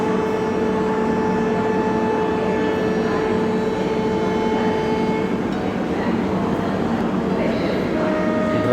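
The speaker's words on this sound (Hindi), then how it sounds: "ड्राइवर साहब ने हरी झंडी दिखा दी है और ये ट्रेन चंडीगढ़ स्टेशन से रवाना होने वाली है।" The Kalka–New Delhi Shatabdi Express stands at the Chandigarh station platform, its engine giving a steady low idling rumble with sustained tonal hum, while someone talks over it throughout.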